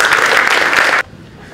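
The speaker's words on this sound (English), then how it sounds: "A round of applause for Azimut." Audience applause at a tourism startup pitching event, loud and dense for about a second before cutting off abruptly to quiet room tone.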